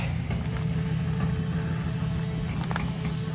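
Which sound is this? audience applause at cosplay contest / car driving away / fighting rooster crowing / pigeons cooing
car driving away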